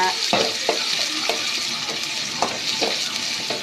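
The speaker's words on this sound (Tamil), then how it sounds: "இந்த மாதிரி சவுண்டு நல்லா வதக்குன்னு வதக்கிக்கோங்க" Garlic and onion sautéing in a pan, a bright steady sizzle broken by several scraping strokes as the pieces are stirred, close up and alone.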